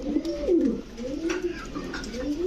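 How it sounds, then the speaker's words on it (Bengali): A tame pigeon held in the hand gives a close, soft, repeated cooing with rising and falling coos, with a little faint background noise. "দর্শক টেম করা কবুতর খালি হাত দিছি দেখেন"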